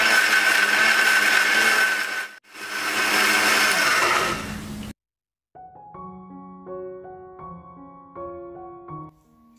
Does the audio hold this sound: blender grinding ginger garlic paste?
yes